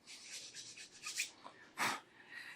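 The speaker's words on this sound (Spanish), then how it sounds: "lo podemos hacer como lo he hecho ahora mismo aquí, con la lija circular" A circular sanding pad rubs against the nock of a historical-style arrow with short, raspy strokes up close, uneven in rhythm, with one louder scrape near the end.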